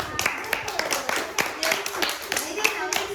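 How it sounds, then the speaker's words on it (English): A small audience of children and adults claps at a Bible Bee competition event, with irregular, close hand claps throughout and people speaking over the clapping. "Clap for Josiah."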